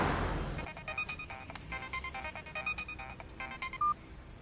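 A phone being dialed, a quick run of short keypad tones after a brief burst of noise, faint and close.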